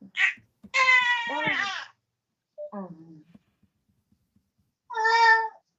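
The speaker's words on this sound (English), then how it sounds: "Oh, your baby is crying." An infant of about three months cries in several short, high, wailing bursts separated by pauses, with adult talk mixed in.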